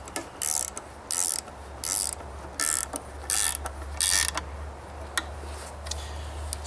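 A ratchet tightens the bolts on a bench in loud, close bursts of rapid clicking, about six strokes with short pauses between them, followed by a few lone clicks.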